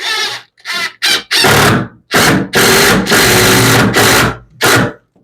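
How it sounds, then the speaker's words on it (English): Power drill driving screws into a shower wall while installing a safety handrail, loud whining bursts that start and stop repeatedly in short and longer runs, up close with no talking. "back it out, drill it in, back it out"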